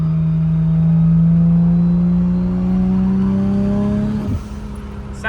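A Nissan Skyline R33 engine hums steadily and loudly at a constant pitch at close range, then drops away abruptly near the end, with no talking.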